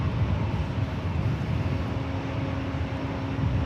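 A Lufthansa Boeing 747 airliner arriving at LAX, a steady broad engine roar that holds at an even level throughout, with a faint tonal whine above the rumble and no talk.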